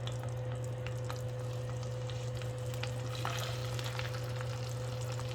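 Blackened fish fillets sizzle steadily in a hot pan, a dense, even frying crackle with occasional sharper pops, continuous and close throughout with no talking.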